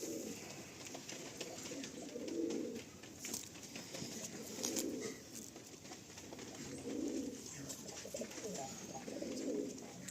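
Pigeons kept for sale coo in a series of soft, low throaty phrases, each lasting a moment and recurring about every two seconds, with faint chirps and background noise between them.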